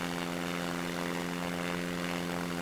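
Steady, loud propeller plane engine drone from the Simple Planes flight game, a constant buzzing tone with layered harmonics holding evenly throughout, with no talking over it.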